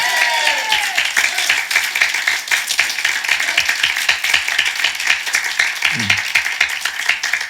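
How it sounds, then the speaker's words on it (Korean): A church congregation at a Sunday morning worship service claps together, a steady run of close, crisp handclaps that fills the space evenly from start to finish with little else heard. "먼저 우리 하나님께 박수로 영광 돌리겠습니다."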